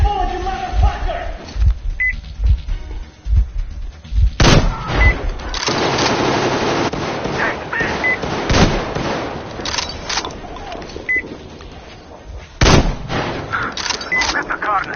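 Gunfire in the video game Metro Exodus, a few sharp loud shots scattered among busy combat noise, with someone shouting over parts of it.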